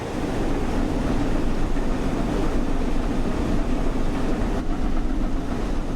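The Flying Scotsman steam train running on the West Coast Main Line toward Euston from Milton Keynes, heard from aboard as a steady, loud rolling rumble with faint rhythmic clatter, unbroken throughout.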